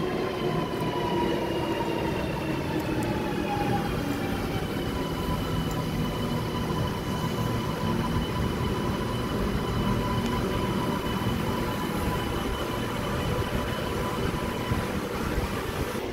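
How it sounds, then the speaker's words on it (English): A Sydney Waratah train rolls into a platform at Chatswood, a continuous rumbling roar of wheels on rails with thin squealing tones drifting across it, steady and sustained with no talking. "We have a Waratah approaching platform 1"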